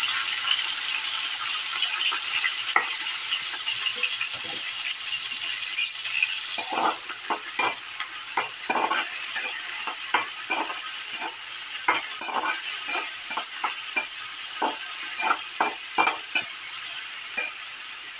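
Chopped onion, green chili and tomato fry in hot oil with a bright, continuous sizzle, broken by scattered clicks and scrapes of a spoon stirring in the pan.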